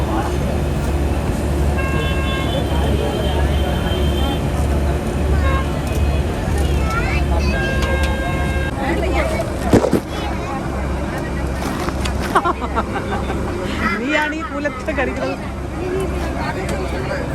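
Interior of a packed bus in motion, with a steady low engine rumble, road noise and occasional horn toots, while passengers chatter throughout.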